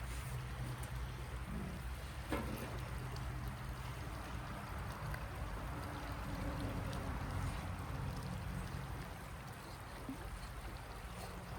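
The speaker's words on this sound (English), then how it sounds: "I apologize for the road noise in the back." Steady low rumble of road traffic in the background, a constant broadband roar with no talking over it.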